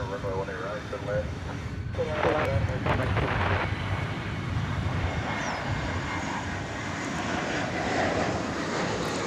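Jet engines of a Viva Aerobus airliner in special livery roar steadily at DFW Airport at night, a broad sustained rumble with some wind buffeting, while a person talks faintly in the early seconds.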